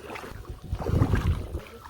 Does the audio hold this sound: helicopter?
no